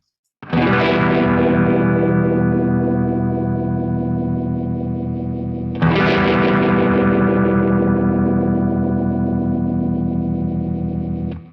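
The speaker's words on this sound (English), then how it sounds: "Now I have a really broad range to control the speed of the Univibe" Electric guitar through a Univibe modulation effect on a Kemper Profiler, sounding two long, loud, driven chords that each ring out for several seconds, with no talking.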